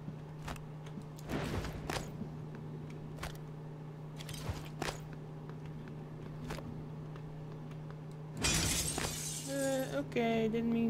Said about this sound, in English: Okay, didn't mean to break the glass.